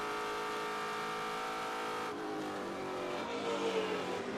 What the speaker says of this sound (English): The car sounds amazing with Matos.